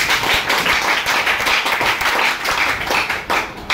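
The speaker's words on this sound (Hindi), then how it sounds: "ताली बजाओ तबला नहीं।" An audience at a company seminar clapping together, a sustained burst of many hands at close range, steady and loud for several seconds with no speech over it.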